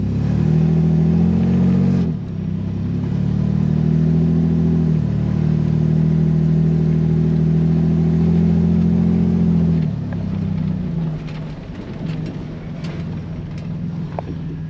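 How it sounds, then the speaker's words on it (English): Truck with a home-made sequential transmission controller, engine droning loudly as it accelerates under throttle, pitch shifting at gear changes around the second and tenth seconds before easing off, recorded close. "And I'm just gonna hit the throttle."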